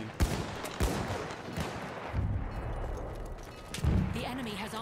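Sniper rifle shots in Battlefield 1 aimed at a tank, several sharp, loud cracks spaced apart amid rumbling battle noise, with someone talking over them.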